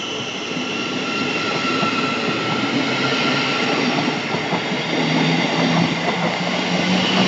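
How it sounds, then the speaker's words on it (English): Train departing on the London King's Cross to Cambridge service, a steady rumbling roll with faint wheel squeal and clatter building gradually, heard from the platform with no talking. "departing now is the 851 service from London King's Cross to Cambridge"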